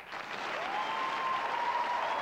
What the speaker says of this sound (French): Ça vous dérangerait-tu de m'applaudir un petit peu